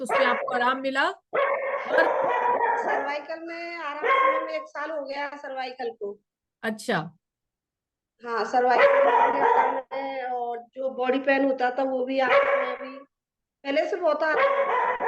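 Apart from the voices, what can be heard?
pet dog barking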